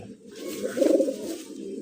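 A young black Gorra fancy pigeon gives a soft, rolling coo that swells in the middle and fades, close and clear with little else around it.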